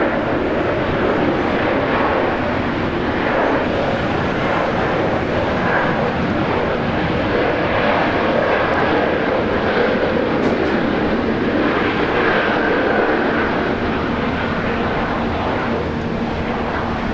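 A jet airliner, Jetstar flight 802, on runway 19 left at Brisbane Airport sends a loud, steady broadband engine roar that holds evenly throughout, with no speech.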